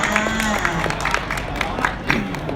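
A crowd at a movie launch event in Thailand claps for a contestant called up on stage, a busy, continuous round of applause mixed with chatter and a voice over the top.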